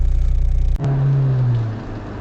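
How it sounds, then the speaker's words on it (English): Inside a moving car, a loud, steady low drone of engine and road noise follows a brief thump, with a humming tone that rises and then fades. "the car is very loud"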